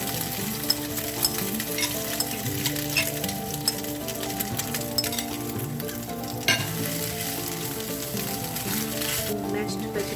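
Blended soya chunks fry in a couple of teaspoons of oil in a pan, a continuous close sizzle with stirring scrapes and clatters throughout, no clear talk.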